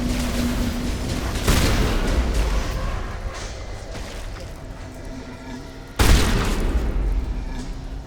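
Shotgun blasts in the Mass Effect video game: two heavy booming shots, one near the start and another later, each with a roaring decay, over continuous game noise and low chatter.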